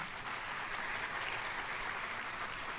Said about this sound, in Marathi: या सगळ्या लोकांसाठी एकदा जोरदार टाळ्या होऊन जाऊ देत